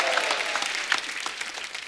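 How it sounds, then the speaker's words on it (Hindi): Loud, steady applause from a studio audience on a Hindi comedy talk show, continuous clapping filling the whole stretch without speech. "जोरदार तालियां।"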